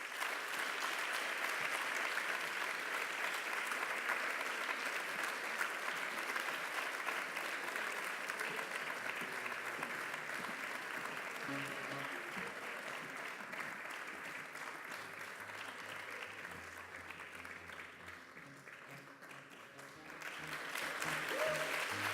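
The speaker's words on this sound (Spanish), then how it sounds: "que por favor les dierais un fuerte aplauso" A crowd at a graduation ceremony claps in long, steady applause that fills the room, easing slightly before swelling again near the end.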